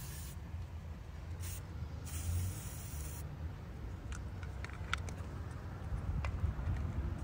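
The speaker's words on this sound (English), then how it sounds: "shake it up and just spray the terminals" A steady hiss of aerosol anti-corrosion spray on car battery terminals in short and longer bursts, close up, over a low background rumble.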